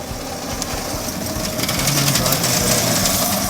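An electric Mr. Scooty ride-on with belt drive whirs along nearby, a smooth, quiet motor hum rising slightly as it moves, with people talking over it.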